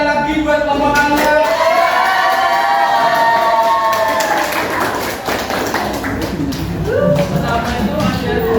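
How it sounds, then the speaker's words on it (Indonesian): A classroom applauds a presenting student group, with quick, scattered hand claps running throughout under overlapping voices and chatter nearby. "Tepuk tangan sekali lagi buat kelompok Anda"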